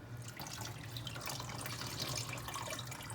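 Steady stream of tap water splashing into a sink while a red-dyed doll wig is rinsed under it, continuous and close, with no talking.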